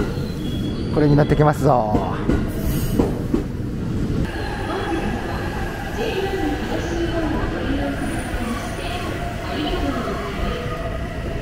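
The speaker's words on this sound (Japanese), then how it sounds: "乗車する列車やってきましたな。" A Hitachi limited express train rolls into Sendai Station with a low, steady rumble and faint wheel noise, while someone speaks briefly over it near the start.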